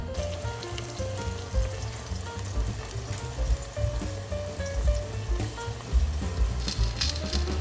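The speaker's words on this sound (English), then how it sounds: "You kind of want to like fry the crust a little bit." Hand-made pizza crust frying in a hot pan, a strong continuous crackling sizzle with popping bursts, close and loud, no voices over it.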